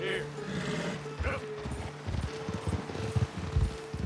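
Horse hooves clip-clop in Red Dead Redemption 2 gameplay, a series of uneven low thuds in the second half, with a voice talking over them.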